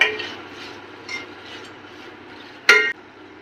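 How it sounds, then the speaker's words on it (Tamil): Cooked chicken is stirred and mixed in a pan, giving soft, scraping stir sounds at a moderate level, with one sharper utensil clink against the pan near the end. "இப்போ சிக்கன் இந்த மாதிரி நல்லா மிக்ஸ் பண்ணி விட்டுக்கோங்க."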